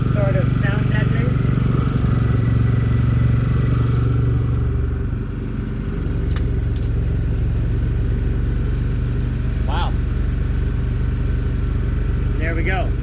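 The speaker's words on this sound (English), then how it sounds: "Generator's in the box running away." A portable generator runs steadily inside a sound-deadening box with fans, giving a close, even engine rumble and hum. Speech can be heard faintly over it at moments.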